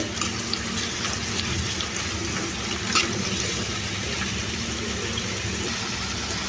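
Slit green chillies frying in a pan for sorakaya pulusu, a bottle gourd stew, make a continuous, fairly loud hiss that stays even from start to finish.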